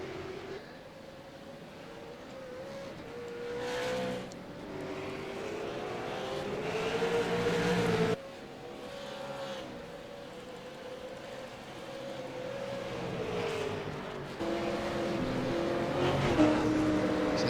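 V8 Supercars racing at the Zolder circuit: engines of several race cars roar past in waves, revving and shifting, heard at a distance with shifting pitch as they pass.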